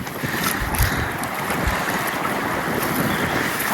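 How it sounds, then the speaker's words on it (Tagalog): Strong wind roars steadily across an open-water setting during a boat outing to hunt for soup fixings in cold weather, a continuous broadband buffeting on the microphone with waves and surf beneath, constant and loud throughout. "Oh, malakas yung hangin po."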